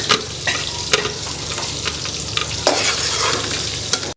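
Chili and tomato paste fry with onions in a pan for karela dal masala, a loud close sizzle broken by regular scraping stirs and sharp spoon taps against the pan, with no voices.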